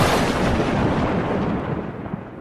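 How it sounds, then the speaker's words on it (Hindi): A heavy downpour roars with a dense wash of noise, while deep rumbling thunder rolls loudly beneath it before easing slightly. "उसी रात बहुत तेज बारिश होती है,"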